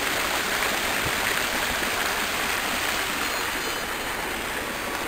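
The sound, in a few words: small water fountain splashing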